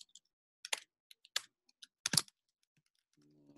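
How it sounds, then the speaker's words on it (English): Sparse, quiet clicks from typing on a computer keyboard come in short irregular bursts with pauses between them, in an otherwise silent room. "I feel like you're probably having a hard time hearing me, right? Because I'm typing,"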